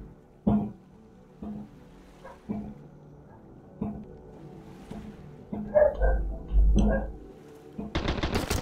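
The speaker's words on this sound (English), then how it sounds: "Lots of dog barking." In the survival game Sunkenland, sharp bangs and gunfire-like pops ring out at intervals, with a dog barking among them, building into a rapid burst of shots at the end.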